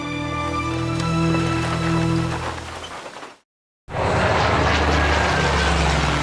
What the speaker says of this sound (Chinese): 日军对南京进行了第一次轰炸，66架日军飞机分2批飞临南京上空